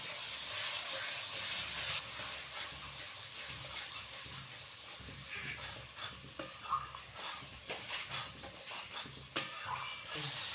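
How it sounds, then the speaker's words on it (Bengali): Whisked sour yogurt goes into a frying spice paste in a pan and is stirred for a fish curry, giving a soft steady sizzle and hiss with scraping, clattering stirring strokes close by. "এবার ফাটানো টক দইটাও দিয়ে দেব"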